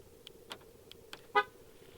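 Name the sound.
car horn chirp from locking the car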